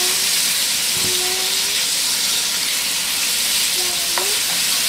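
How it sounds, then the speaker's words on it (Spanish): Chopped bacon frying in a pan for a New Year's congrí sizzles in a loud, steady hiss from start to finish, with a few faint stirring scrapes and pan knocks underneath. "tocino picadito. Y vamos a dorarlo."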